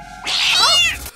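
A single cat meow in a 1984 adventure film scene, a short, loud, rising-and-falling cry lasting about a second, close and clear with no talking.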